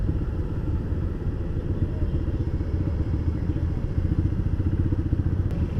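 Yamaha four-cylinder shaft-drive police motorcycle, a deep steady engine rumble with fast pulsing firing beats, heard close and continuous on the road with wind noise.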